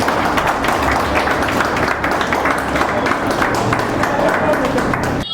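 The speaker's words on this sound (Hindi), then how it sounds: "जोरदार तालियों से" Dense, steady clapping from a crowd at a Jat community conference in Jeevan Park F Block, a continuous broadband patter filling the whole stretch with a murmur of voices beneath.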